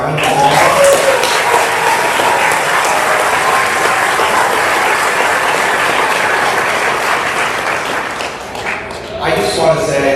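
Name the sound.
audience applause for the graduating class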